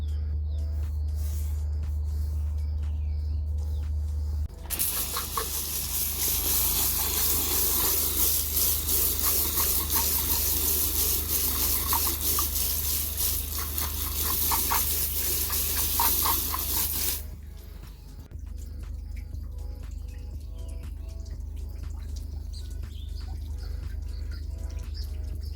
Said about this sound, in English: Now it's time to cover it up and give the whole tray some water.